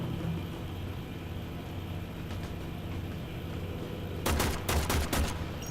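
Short bursts of rapid gunfire break out near the end as Corpus enemies are shot in the Warframe video game, heard over a constant dense rumble of background game noise.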